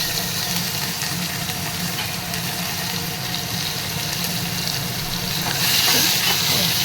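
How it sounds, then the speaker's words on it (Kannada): Ginger and green chillies with a pinch of asafoetida frying in hot oil, giving a steady close sizzle with crackling hiss that grows slightly louder near the end. "ಸ್ವಲ್ಪ ಶುಂಠಿ ಹಸಿ ವಾಸನೆ ಹೋಗೋ ತನಕ ಒಂದು ನಿಮಿಷ ಫ್ರೈ ಮಾಡ್ಕೊಳ್ಳೋಣ"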